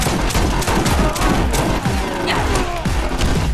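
Continuous heavy gunfire and explosive rocket launcher blasts from the shooter game Borderlands in an arena boss round, a dense, loud barrage of overlapping shots and booms with no pauses.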